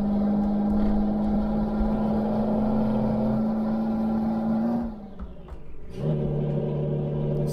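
A Scania R truck engine in Euro Truck Simulator 2, a loud steady hum that climbs, breaks off briefly as a gear changes, then resumes lower, with no talking.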